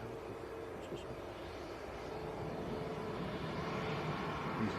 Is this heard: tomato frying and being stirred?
no